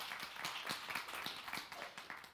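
A Sunday church service congregation claps together, a steady dense patter of many hands at moderate volume, continuous and without speech.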